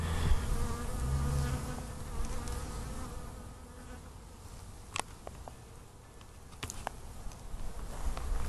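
Honeybees buzz continuously around a swarm capture box, a dense steady drone from many insects close by, with a few sharp ticks and taps scattered through the second half.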